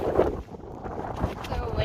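Strong mountain wind gusts across a hiking trail in wet weather, roaring and buffeting the microphone in uneven surges throughout a short stretch.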